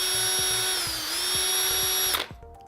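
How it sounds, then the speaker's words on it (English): A power drill spins a sandpaper-wrapped dowel inside a golf club shaft, making a close, steady high whine that stops sharply near the end and leaves a brief rattle. "put it in your drill"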